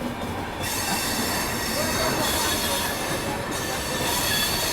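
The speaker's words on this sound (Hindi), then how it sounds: "ये अच्छी खासी रफ्तार में निकल तो रही है" Gomti Express rushing past at speed, a loud sustained roar of wheels and carriages with rail squeal and clatter close by.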